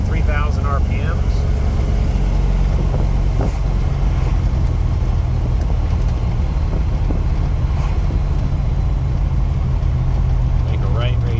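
A 1973 Ford Mustang Mach 1 with a fuel-injected 351 engine runs at about 3,000 RPM, a steady, loud low rumble filling the whole stretch while someone talks over it.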